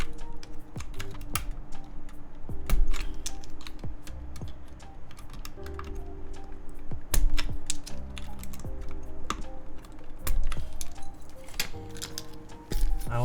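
Typing on an Omnitype Bauer Lite mechanical keyboard with swapped keycaps: a steady, close run of clacky keystrokes with heavier thocks at intervals, continuous and fairly loud throughout.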